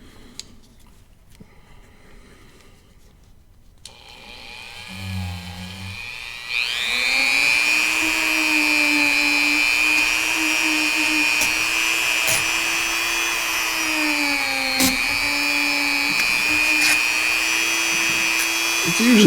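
A handheld power tool smooths burrs inside a Stoeger coach gun action, starting up after a few faint handling noises and then whining steadily and loudly close by, with small dips in pitch and brief catches as it bears on the metal.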